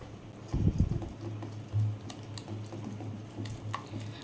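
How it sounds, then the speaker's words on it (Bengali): Moong dal paste with black cumin beaten by hand in a bowl makes soft, irregular tapping and a few dull thumps, a heavier burst near the start, quiet and close with no talking. "এবারে আমি মুগ ডালটা ভালো করে ফেটিয়ে নেবো"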